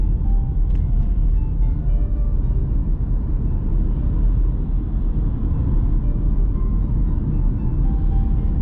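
Steady road rumble from driving amid traffic between Sedona and Cottonwood, Arizona: a continuous, loud, low drone of tires and engine with no breaks or talking.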